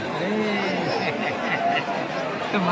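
A crowd of devotees at the Banke Bihari temple in Vrindavan on New Year: dense, close chatter and babble from many voices packed together, steady throughout the short stretch.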